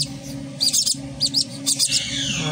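Week-old gamefowl chicks, five to seven days old, bred from a YS dilute cock and a pineapple torque hen, chirp in quick, high, close-up bursts of several peeps, with short pauses between clusters.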